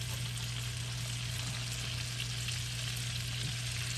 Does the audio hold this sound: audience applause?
no